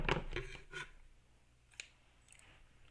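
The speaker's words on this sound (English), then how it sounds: "then we're going to cut this edge off too" A few close snips of scissors cutting the edge off a lavender post-it clipboard craft, quick cuts at the start then sparse soft clicks, fairly quiet.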